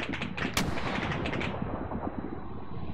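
Rapid cannon bursts from an A-10 aircraft in Arma 3, dense crackling fire loud at first and then tapering into a rumbling, echoing roll that lingers through the rest.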